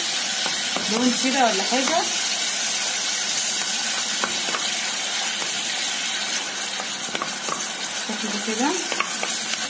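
Pigeon gizzards sauté in a hot pan, giving a steady, close sizzle with stirring scrapes throughout while someone talks softly over the cooking.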